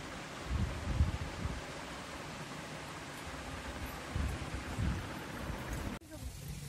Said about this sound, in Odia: କେତେ ସୁନ୍ଦର ପବନ ହେଉଛି ଦେଖନ୍ତୁ ଫ୍ରେଣ୍ଡ